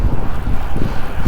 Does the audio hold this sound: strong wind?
yes